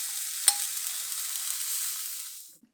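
Beef burger patties frying in a smoking hot oiled pan, a loud continuous hiss with one sharp pop near the start, the sizzle fading out abruptly at the end.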